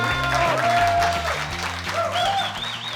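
Audience applause fills a conference hall at a Startup Grind Barcelona event, a steady wash of clapping throughout, with tonal music and a murmur of voices running underneath.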